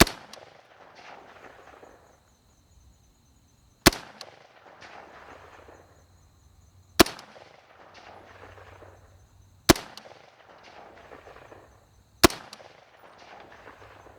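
Rifle fired outdoors at a 250-yard steel target on a windy range, four sharp loud shots spaced a few seconds apart, each followed by a fading echo and quiet wind between.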